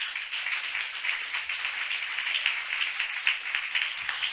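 A church congregation applauds during a Sunday worship service, a dense, steady wash of many hands clapping at once that carries on without a break and without any single standout voice.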